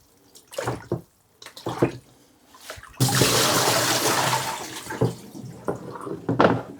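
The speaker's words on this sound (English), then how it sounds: "Now I'm going to rinse it, wash it, and hang it up to dry." Water splashing and running as a large 14x17 salt print is rinsed, a sustained wash of pouring water in the middle between short bursts of handling and speech before and after.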